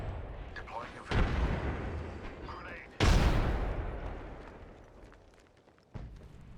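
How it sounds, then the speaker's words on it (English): Grenade blasts in a first-person squad shooter game: two heavy booms with rumbling decay, the first loud and close, another sharp burst near the end, under faint background game noise. "Grenade. Deploying a grenade."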